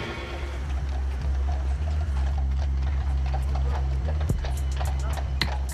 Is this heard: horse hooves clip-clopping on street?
yes